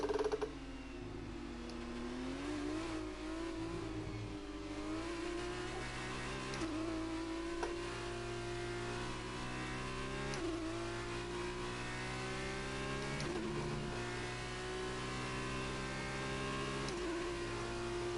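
An F2 race car engine in F1 2019 on the China circuit screams through repeated rising revs, each climb broken by a sharp drop at an upshift, loud and continuous with no speech.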